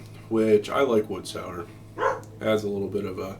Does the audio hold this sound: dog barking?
yes